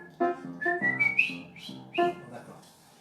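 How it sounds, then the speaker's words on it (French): A crowd at a blind-test quiz event whistles a song tune together, a clear melodic line of rising and falling notes carried by many whistlers, fairly close, with a faint murmur beneath. "donc la chanson, on va la siffler"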